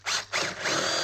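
A power drill fitted with a larger bit bores into a small piece of timber, whining loudly and close with a brief dip mid-way before the motor surges again.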